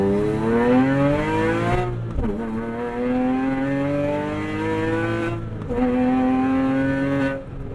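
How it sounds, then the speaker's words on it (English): A 2006 Porsche Cayman S flat-six with a full IPE exhaust revs hard through rising gear pulls, loud and close, with brief dips at each shift and no talking. "IPE build and it opens up that flat six"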